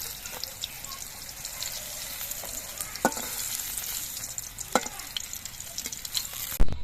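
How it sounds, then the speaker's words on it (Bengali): Eggplant pieces frying in oil in a kadai, a constant close sizzle broken by a few sharp spatula scrapes and clinks, with no voices. "এই জন্যই আমি বেগুনটা আলাদা করে ভেজে নিচ্ছি"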